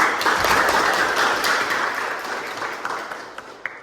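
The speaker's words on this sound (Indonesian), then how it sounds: "Oke, tepuk tangan dulu." A room full of people at a university teaching session applauds, a dense patter of clapping that gradually thins and fades out with a few last claps.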